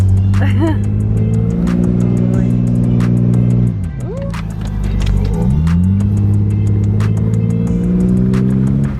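A car stuck in sand revs its engine hard, wheels spinning, with loud sustained engine tones that dip and climb again as the driver eases off and re-accelerates, close up.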